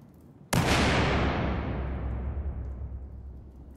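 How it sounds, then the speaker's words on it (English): A frag grenade detonates in Battlefield 4: one sudden, loud blast about half a second in, then a long rumbling roar that slowly fades. "Grenade out! I'm throwing a grenade!"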